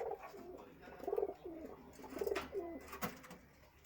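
Soft, repeated cooing of pigeons, low rolling calls recurring in a steady rhythm against a quiet background.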